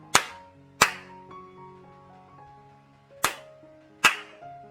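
Hands clapping to trigger an Arduino microphone clap switch: four sharp, isolated claps in two pairs, close and crisp, with a faint electronic hum lingering between them.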